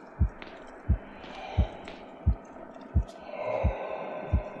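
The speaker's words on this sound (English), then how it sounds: "You hear the heartbeat noise?" Heartbeat effect in the horror-tinged game Medusa's Labyrinth: seven steady, deep thumps about once every 0.7 seconds over a low ambient drone, alone with no talk.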